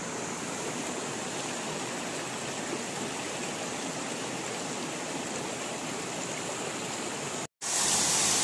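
A waterfall in Barot Valley roars in a dense, constant rush of falling water, loud and close, broken by a brief dropout just before the end.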